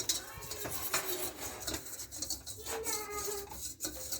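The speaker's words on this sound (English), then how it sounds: "Whisk that together." A whisk scrapes and clatters in a pan while flour is combined into a roux for a smoked gouda cheese sauce, quick rhythmic metallic rubbing, close and moderately quiet.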